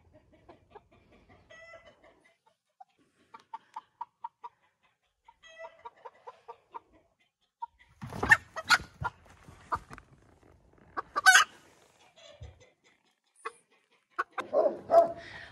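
Barred Rock hens and a rooster clucking in short repeated bursts, with louder squawks and some barking mixed in later, close and fairly quiet with gaps of silence between.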